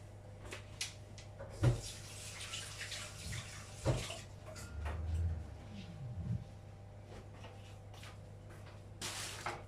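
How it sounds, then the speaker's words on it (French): Hands are washed under a running kitchen tap, with faint, intermittent splashing and a few soft knocks and clunks spread across a quiet background. "Je me lave les mains."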